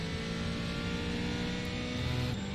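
A GT4 race car engine in the iRacing sim at Daytona roars steadily at high revs throughout, loud and continuous, with a constant-pitch game-style engine whine.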